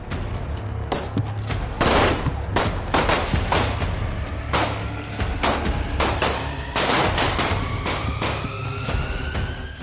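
Rapid bursts of gunfire crack repeatedly at close range, sharp overlapping shots in quick succession over a low background hum.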